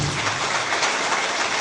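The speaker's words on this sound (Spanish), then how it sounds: "Fuerte aplauso al hermano" Applause from a Catholic church congregation. The clapping is steady and dense for the whole moment, with no voices over it.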